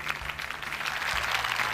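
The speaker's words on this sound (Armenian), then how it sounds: "Ծափարում եք Սուրեն Վարդանյանին" Audience applause for a performer on a televised talent competition, fairly soft and steady clapping that continues evenly with no voices over it.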